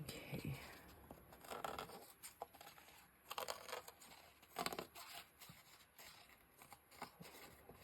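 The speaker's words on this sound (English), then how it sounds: "Now we'll go in with some scissors and see how that works." Several quiet snips and crinkly rasps of scissors cutting through a soft paper napkin, close by, in irregular bursts with pauses between cuts.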